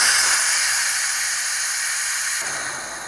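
Pressure cooker holding soy milk venting steam, a loud continuous hiss close by that stays steady and eases slightly toward the end.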